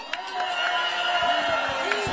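An outdoor crowd at a Korean election rally for candidate Kim Moon-soo in Anseong cheers and shouts in a sustained, close roar, with rising and falling voices standing out from the mass.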